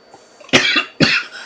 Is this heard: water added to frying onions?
no